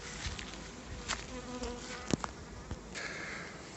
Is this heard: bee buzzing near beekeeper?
yes